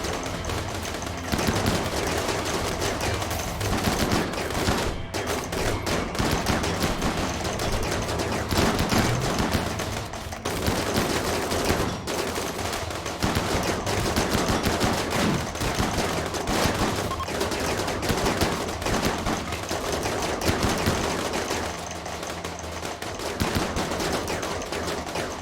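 Rapid automatic chain shotgun fire during a RimWorld raid, dense loud bursts of gunshots blasting almost continuously for the whole stretch with only short gaps.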